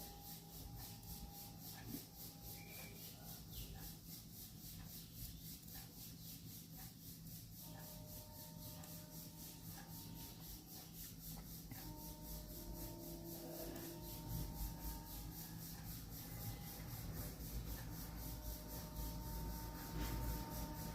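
An electric sewing machine runs a long straight seam on a baby frock, a faint steady whirring with soft rhythmic stitching that grows slightly louder toward the end.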